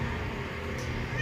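A cat meows close by in a cold indoor setting, a short plaintive call over a steady background hum.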